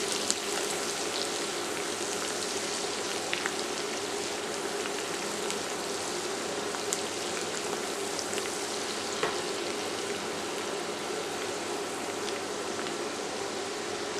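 Garlic mixture and chopped cilantro sauté in a skillet before shrimp are added, giving a steady, dense sizzle with fine crackling pops that stays even and unbroken throughout, with no talking.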